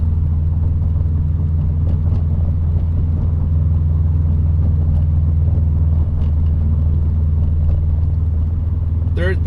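Turbocharged 2018 Subaru WRX STI driving, a steady low engine and road rumble heard from inside the car, continuous and fairly loud throughout with no change in pace.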